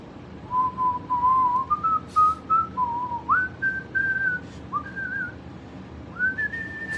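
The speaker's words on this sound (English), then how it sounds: "whistle me a song" A person whistles a pop song melody, a clear sustained tune of held notes and pitch slides running continuously, close and fairly loud over a low background hum.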